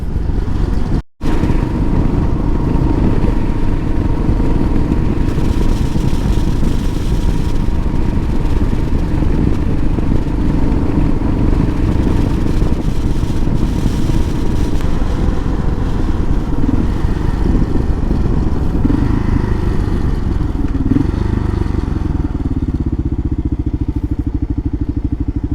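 A 2005 Kawasaki KLR 650 motorcycle being ridden, its single engine droning steadily and loudly under heavy wind rush throughout, with a brief dropout near the start.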